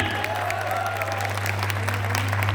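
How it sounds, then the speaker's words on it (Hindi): A seminar audience in Raipur applauds three senior leaders, giving steady massed clapping with light crowd noise throughout over a constant low hum. "तीनों सीनियर के मैं तालियां चाहूंगा और जोरदार और जबरदस्त"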